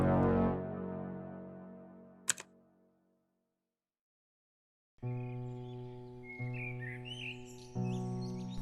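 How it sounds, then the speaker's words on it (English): Birds chirp in a late-spring New York setting, several bright tweets scattered over a steady sustained tone after a sharp click and a brief silence, with no talk. "Blue skies, chirping birds, and spectacular bloomings."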